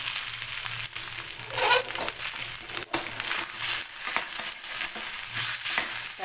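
Potatoes and roasted masala are stirred in a kadhai that is not nonstick, giving close, soft sizzling with repeated scraping and crunchy stirring strokes in an uneven rhythm, without speech.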